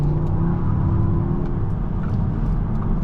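A 2014 Volkswagen Beetle 2.0T R-Line's engine pulls from a stop, a loud, steady low rumble from inside the cabin with a faint rising engine tone.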